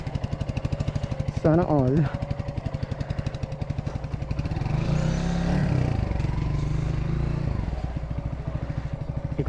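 A Mutt 200cc classic motorcycle with no kickstart, its single-cylinder engine thumping in a fast, steady close-up beat that rises briefly as it is revved, with people talking over it.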